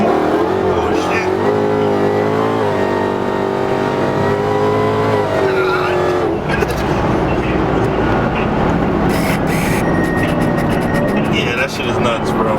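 A Dodge Hellcat at roughly 1,000 horsepower pulls hard, its engine note climbing through a steady, loud roar with rising harmonics before breaking into a rougher, noisier blast; voices shout over it toward the end.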